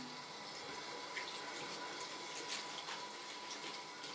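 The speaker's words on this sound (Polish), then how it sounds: "mydełko jest już w siatce i poleję je troszeczkę ciepłą wodą" Warm water trickles and splashes over a bar of soap inside a foaming net, a soft, steady watery hiss with faint drips, close and fairly quiet throughout, with no talking.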